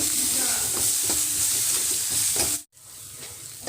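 Salt, turmeric and Kashmiri chili powder are stirred through ridge gourd and poppy seed in a frying pan, with steady close sizzling and scraping strokes that cut off abruptly near the end before a quieter sizzle resumes.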